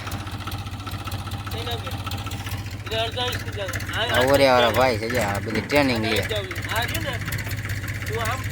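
A tractor engine powers a groundnut thresher with a continuous low droning hum, close and even, while someone talks over it for much of the time.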